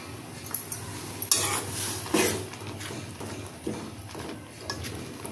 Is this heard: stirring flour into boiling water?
yes